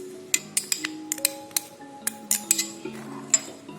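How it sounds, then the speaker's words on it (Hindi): A spoon stirs cornflour into milk in a small vessel, giving a quick irregular run of light metallic clinks and taps against the sides, close and clear, with no voices. "इसको अच्छे से मिक्स कर लेंगे"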